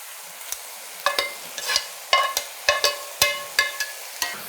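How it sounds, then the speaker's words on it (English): Breakfast sausage and spinach are stirred in a pan, with a run of about ten regular scraping strokes and light clinks over a soft sizzle, close and clear. "We're going to give that a little stir."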